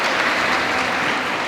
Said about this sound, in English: And that's an applause for you.